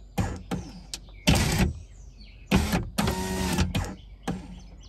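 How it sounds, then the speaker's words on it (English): A Toyota Tacoma power window motor on a 3rd-gen truck runs in repeated bursts with broken glass in the door track, giving harsh grinding and rattling surges separated by short pauses. "It sounds like there's some glass in the track."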